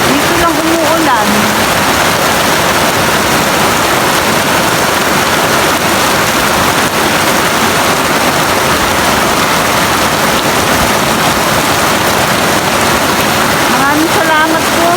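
Heavy rain from a typhoon pours down continuously in a loud, dense roar, with a voice talking faintly underneath at the start and end.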